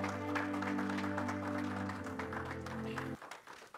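Congregation clapping in praise at a Palm Sunday church service, a steady, dense wash of hand claps over sustained organ or keyboard chords that cuts off near the end, leaving a quieter tail.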